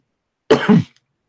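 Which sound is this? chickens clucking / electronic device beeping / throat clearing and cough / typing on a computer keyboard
throat clearing and cough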